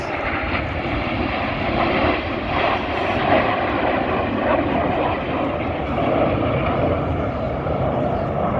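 Red Arrows jets flying a rollback manoeuvre at the Midlands Air Festival 2024, a steady loud jet-engine roar filling the whole stretch with slight swells in level.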